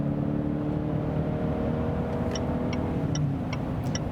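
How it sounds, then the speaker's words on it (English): A 2019 Range Rover Sport P400e plug-in hybrid's 2-liter four-cylinder petrol engine pulls hard while overtaking a truck, a steady loud engine drone with road and wind noise inside the cabin. "we also have some good acceleration just from the petrol engine"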